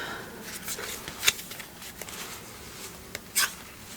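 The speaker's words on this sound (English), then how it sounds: "I'm really liking the way that these cards shuffle." Oracle deck of cards being shuffled by hand, soft papery riffles and slides with a couple of sharper snaps, close and quiet with no talk.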